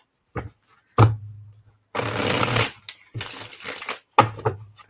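A deck of cards being shuffled by hand gives several bursts of riffling, crinkling rustle with short gaps between them, close up and moderately loud.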